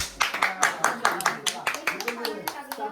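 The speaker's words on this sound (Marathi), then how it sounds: "टाळ्या वाजवण्याच्या" Hands clapping at a family worship of the household deity, a steady run of sharp claps about five per second, fairly near, with voices talking over them.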